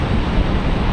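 A Delta Boeing 737 arriving from Atlanta at Raleigh-Durham airport on a windy day, a loud, broad jet roar filling the whole moment without pause.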